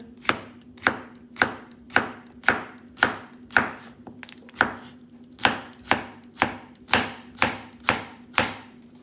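Vegetables finely chopped with a knife on a board, about sixteen sharp, evenly spaced close chops in a steady rhythm with a faint background hum.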